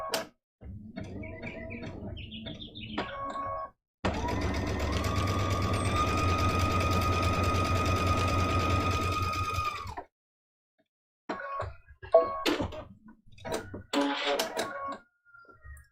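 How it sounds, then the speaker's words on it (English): A sewing machine stitches a fabric seam on a scrappy Christmas stocking mug rug, a close steady whirring run of about six seconds, framed by short bursts of handling clicks and rustles. "I'm going to sew that first."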